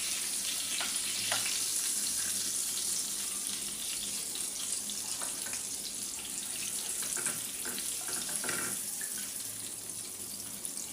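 Chicken chap fries slowly in a pan over low heat, giving a constant hissing sizzle with occasional small pops and faint utensil touches.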